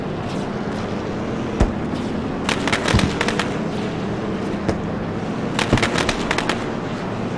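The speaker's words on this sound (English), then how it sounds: "And the fireworks sound in the background." Fireworks crackle and pop continuously at a distance during a modified car race at Five Flags Speedway, with several sharper bangs standing out over a dense, steady rumble.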